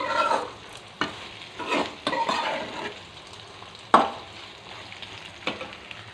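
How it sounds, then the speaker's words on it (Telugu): Bitter gourd pieces sizzle and crackle in a pan, with several sharp scraping stirs spaced through the steady frying hiss, close up and with no talking. "చూడండి చక్కగా ఫ్రై అయిపోయినాయండి"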